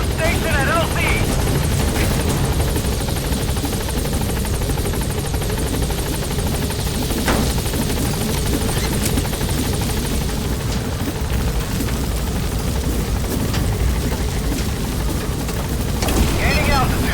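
A support helicopter in Metal Gear Solid V arrives at a landing zone, its heavy rotor roar loud and constant throughout, with radio-style voices speaking over it.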